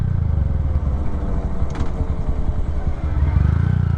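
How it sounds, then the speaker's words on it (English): Motorcycle engine running and revving as the clutch is worked during a gear change, a continuous close, loud low rumble with slight rises in pitch and no talk over it. "pull in the clutch, shift down, rev the bike, and then release."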